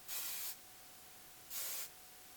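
Sebastian Shaper Plus hairspray sprayed from a can in two short close hissing bursts about a second apart, with quiet pauses between.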